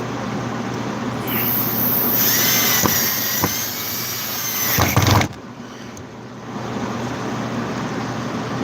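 A power drill drives screws while a bench is being built, with a loud, close whine lasting a few seconds, a few sharp knocks, then a quieter stretch.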